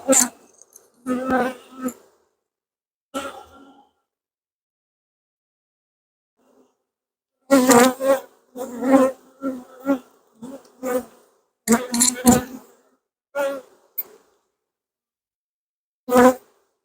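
A honey bee colony in a hive box buzzes close by, loud hums coming in irregular bursts with near-silent gaps between them.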